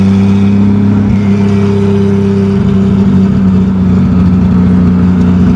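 Loud, close engine roar from a 1987 Toyota Supra with a turbocharged 2JZ-GE swap, running rich as it accelerates, its strong droning tones rising and shifting in pitch under throttle, with no talking.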